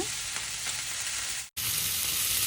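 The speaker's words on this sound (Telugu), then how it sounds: "మెంతి కూర ఆయిల్లో బాగా ఫ్రై చేయాలి" A cup of washed fenugreek leaves frying in oil with cumin seeds makes a steady, close sizzle with light crackle and stirring, broken by a split-second silent gap before the hiss resumes.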